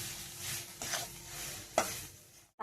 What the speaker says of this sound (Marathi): गुलकंद टाकून मिक्सच करायचं आहे आपल्याला